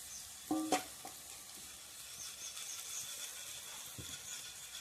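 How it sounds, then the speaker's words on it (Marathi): Cumin seeds and peanuts tempering in hot oil for a traditional Marathi ambadi leaf bhaji, a brief burst of crackling near the start and then a soft, steady sizzle. "जिरे आणि शेंगदाणे ते टाकून घेतलेले आहेत आता छान मस्तपैकी तडका बसलेला आहे फोडणीला"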